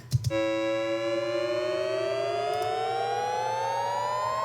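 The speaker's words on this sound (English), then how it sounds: "that is the riser" A synthesized riser built from Logic stock plug-ins: a bright, harmonic-rich tone sweeping steadily upward in pitch for about four seconds over a low hum, following two short clicks at the start.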